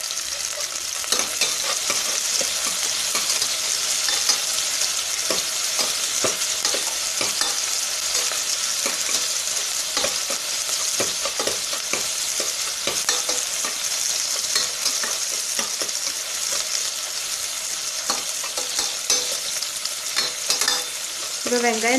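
Salted onions frying in a pan give a continuous loud sizzle, with steady scraping stirs throughout for over twenty seconds.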